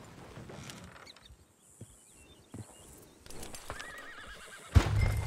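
A horse whinnying in the video game Red Dead Redemption II, a loud, close neigh near the end, preceded by faint hoof clip-clops and outdoor ambience with birds and insects.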